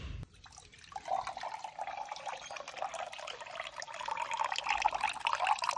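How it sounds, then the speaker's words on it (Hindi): Water runs and trickles steadily into a glass at a temple, a continuous splashing flow that grows slightly louder toward the end, with no talking. "पानी निकाल लिया"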